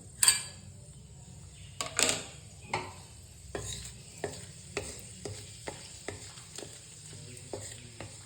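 Crushed whole cardamom, clove and cinnamon hit hot oil with a sharp burst of sizzling, followed by a run of regular spoon scrapes and stirs against the pan over a low crackling background.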